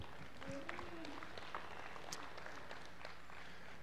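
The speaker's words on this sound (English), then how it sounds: "Let's give these bull consigners a nice round of applause here." Crowd applause for polled Hereford bull consigners at a Nebraska cattle show, a soft, distant patter of clapping spread evenly throughout, with faint voices in the background.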